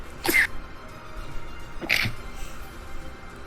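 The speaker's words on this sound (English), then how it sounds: "You just sneeze out the poison." Two sharp sneezes, nearby and spaced about a second and a half apart, with quiet room noise between them.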